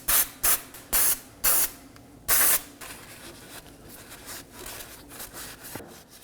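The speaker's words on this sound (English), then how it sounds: "clean the area using some brake cleaner and a rag" Brake cleaner sprays in several short, loud hissing bursts onto the steering knuckle of a 2020s Toyota Corolla, then softer rubbing and faint handling noises follow.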